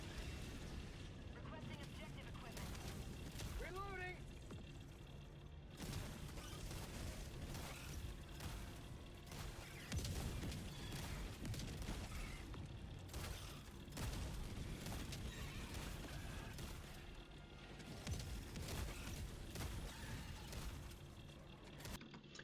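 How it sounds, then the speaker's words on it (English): Strafing-run explosions in Helldivers 2 against predator strain bugs: a dense, continuous barrage of booming blasts and crackling debris, loud and sustained, with a voice talking over it. "So lead in with a strafing run, because why not?"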